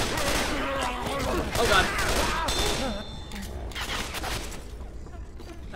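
Rapid bursts of gunfire from the Left 4 Dead video game with Christmas mods, loud and close, crackling in clusters through the first half and thinning out afterward, with a player's brief exclamation over it.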